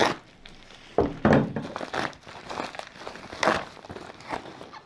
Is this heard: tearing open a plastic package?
yes